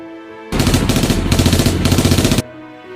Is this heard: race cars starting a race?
no